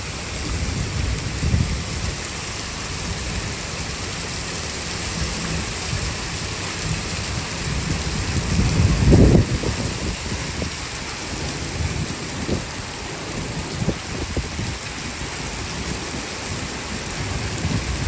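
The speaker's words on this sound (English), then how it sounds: "Springtime thunderstorm. It is pouring." Heavy spring rain pours steadily through a severe thunderstorm, with a deep rumble of thunder swelling near the middle and softer rumbles after, all under a constant hiss of downpour and no voices.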